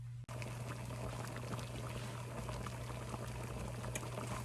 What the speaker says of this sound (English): This has come to a boil.